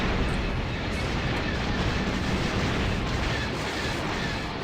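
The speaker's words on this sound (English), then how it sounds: "Heavy cannon fire." Heavy cannon fire in the X-wing Alliance space combat game, a dense, continuous roar of blasts and rumbling explosions that stays loud and constant throughout without a break.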